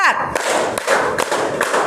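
Hands clapping in time to a spoken count in an Indonesian classroom, several sharp claps spaced roughly every half second under a teacher's counting voice.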